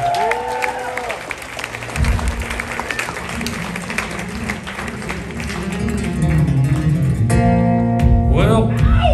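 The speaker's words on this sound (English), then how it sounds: "How about another round of applause for these guys?" Audience applause and crowd noise for musicians at a live show, broadband clapping sustained throughout with music and talk mixed underneath.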